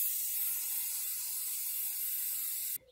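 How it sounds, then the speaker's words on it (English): High heat black spray paint hisses steadily from an aerosol can in one continuous burst lasting nearly three seconds, close to the microphone, then cuts off abruptly. "We'll give this a quick spray here."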